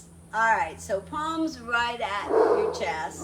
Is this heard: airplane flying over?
no